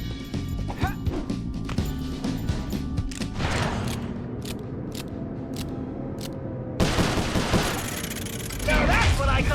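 Rapid gunfire in Sly Cooper: Thieves in Time crackles in dense bursts of sharp shots and impacts, loud and close, with crashes mixed in and game voices heard at times.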